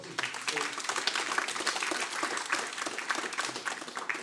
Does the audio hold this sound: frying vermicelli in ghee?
no